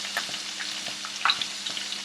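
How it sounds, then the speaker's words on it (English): Garlic sizzles and crackles steadily in hot oil in a pan, with scattered sharp pops and a light stirring scrape, close and moderately loud. "Once these become sizzling, as you can see, and their garlic is nicely browned"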